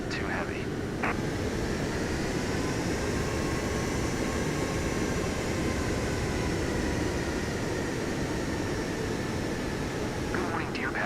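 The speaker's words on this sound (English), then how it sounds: "Clear for takeoff runway 16 left." An airliner in Microsoft Flight Simulator 2024 rolls down the runway on takeoff, a steady loud engine roar and rumble holding throughout with a high whine above it.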